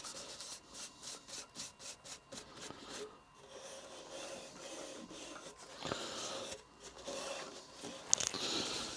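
Finish being rubbed by hand onto an ash vase on a stationary lathe, with a rhythmic series of soft rubbing strokes followed by a quieter, irregular rubbing and a small clatter near the end.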